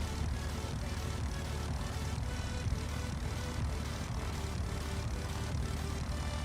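A propeller aircraft engine in a flight video game drones steadily with the throttle turned down, a constant mid-level hum with faint periodic pulsing, no talking heard.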